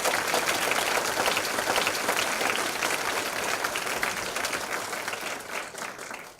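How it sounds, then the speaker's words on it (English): Sustained applause from a panel event audience, dense clapping that stays full for several seconds and then gradually thins and fades toward the end. "please give a huge round of applause for our three panelists tonight"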